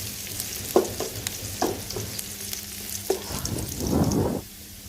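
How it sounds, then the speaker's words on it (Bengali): Onions fry in oil in a pan with a continuous close sizzle, broken by several sharp spatula knocks and stirring scrapes and a louder crackling burst near the end; no one talks. "পেঁয়াজ দিলাম আর তেল পেঁয়াজটা ভালো করে ভাজবো"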